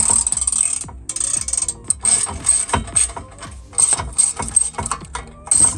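A hand ratchet drives a 7mm socket while pulling the steering column on a 2001 Ford Econoline 7.3L Power Stroke van, rapid close clicking in repeated bursts broken by short pauses.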